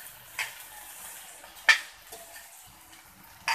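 Okra tossed in red chilli masala in a pan over medium heat, with three sharp spatula scrapes standing out above a faint, low background hiss.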